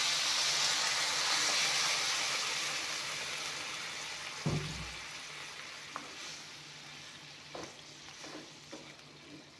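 Water poured into a hot pan of simmering rohu fish curry with eggplant sets off a loud sizzling hiss that gradually fades, followed by a dull knock and a few light clinks.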